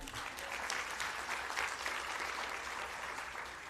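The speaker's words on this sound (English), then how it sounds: "Give her a round of applause, everyone." Audience applauding steadily at a ceremony marking a completed CREATE rail project, a dense even wash of clapping throughout with no voices over it.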